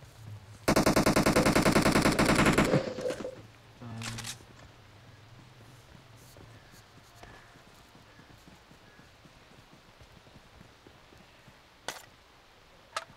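Machine gun fire in a multiplayer shooter video game, a loud, rapid burst of automatic shots lasting about two seconds, followed by scattered thuds and quieter game sounds.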